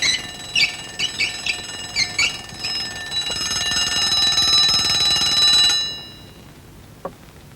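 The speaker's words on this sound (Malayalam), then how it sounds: "അലാറം അടിച്ചു" An alarm rings indoors at home, loud and close: a few short bell-like bursts, then a long continuous shrill ring that stops abruptly, leaving quiet with one faint click.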